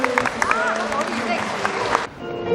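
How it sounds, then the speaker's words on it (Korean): Guests clap for the groom's entrance at a Vietnamese international wedding ceremony, a steady crowd applause under amplified talk and music, cutting off abruptly near the end. "박수 보내주시기 바랍니다"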